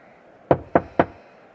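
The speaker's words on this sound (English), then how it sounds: "Perhaps I should just knock." Three firm knocks on a palace door in the adventure game Lost Chronicles of Zerzura, evenly spaced and close, each with a short hollow decay against a quiet room tone.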